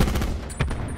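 Gunfire in Call of Duty Blackout, a dense close rattle of shots across the whole moment with one sharper burst near the middle.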